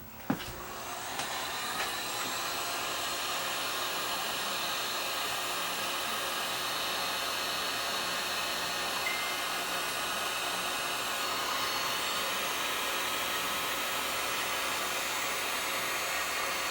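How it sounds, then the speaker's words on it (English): A heat gun blows steadily to shrink heat shrink tubing during a repair on a Carver Silver 9 mono block amplifier, a close, continuous roaring hiss that starts with a click and runs unbroken, with no talking. "I'll just get my heat gun. We'll shrink that down and tuck it in there"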